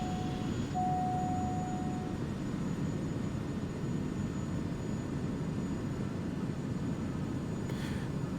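A TBM 850 turboprop in a flight simulator, a steady broadband engine drone with a constant whine, held throughout at moderate level with no talk.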